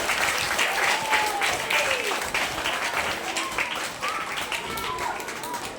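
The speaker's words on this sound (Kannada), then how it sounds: "ಅವಳ ಪ್ರತಿಭೆಗೆ ಮತ್ತೊಮ್ಮೆ ಚಪ್ಪಾಳೆಯನ್ನು ತಟ್ಟುವುದರ ಮೂಲಕ ಪ್ರೋತ್ಸಾಹಿಸಬೇಕು" A crowd at a school farewell ceremony claps for a student's drawing, dense steady applause throughout with voices and a few faint high calls mixed in, fairly loud and close.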